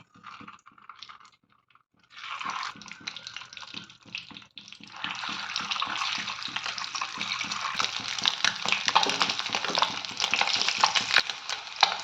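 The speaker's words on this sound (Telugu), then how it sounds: "మూకుడు పెట్టుకుని ఆయిల్ వేసుకోవాలి. పసుపు, ఉడికించి నాట్లు పెట్టుకున్న గుడ్లు వేసుకోవాలి." Boiled eggs with turmeric drop into hot oil in a pan. After a quiet start with a few soft knocks, a loud, close sizzle bursts in and crackles on steadily, with no talking.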